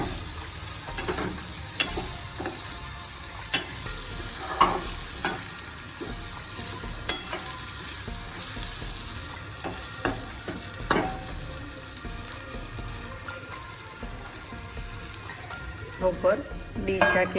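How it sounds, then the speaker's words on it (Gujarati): Ridge gourd (turiya) cooks in a pan covered with a dish, giving a steady low sizzle broken by occasional soft clinks and stirring sounds, with no talking over it. "આપણે તેને એક મિનિટ સુધી રહેવા દઈશું જેથી કરીને આપણા જે તુરિયા છે તે સરસ મજાના સતળાઈ જાય"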